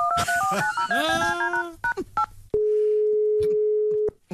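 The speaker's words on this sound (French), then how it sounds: "Ok Brigitte, j'appelle Pierre Arditi." Telephone dialing tones in a comic radio sketch: a quick run of short beeping keypad tones mixed with a voice and tonal effects, then a single long steady phone tone held for about a second and a half.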